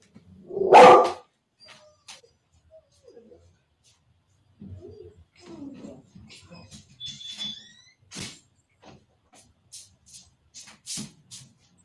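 A dog barks indoors, one loud close bark followed by scattered quieter yips and household noises, with brief bits of a person talking.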